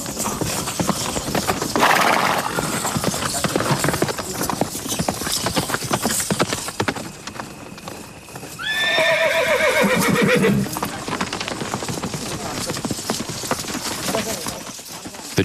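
Hooves clop in a steady rapid rhythm throughout, and midway a horse lets out a loud, shrill whinny that trails off.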